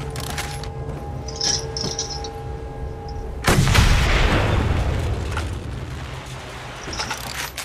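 A single heavy gunshot blasts in the Mad Max video game, a sudden loud boom that rings out and decays over several seconds after a quieter stretch of game ambience and faint clinks.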